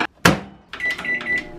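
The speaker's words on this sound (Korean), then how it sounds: "얘를 전자레인지에 1분 30초 동안 돌려줍니다." A microwave oven heats a cookie set on parchment paper in a bowl: a short clunk, then a steady running hum with a faint high whine.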